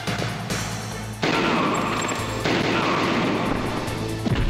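Gunfire from a shooting section of Metal Gear Solid, the 1998 video game, sounding as a dense, loud stream of game combat noise with sharp bursts and continuous clatter throughout.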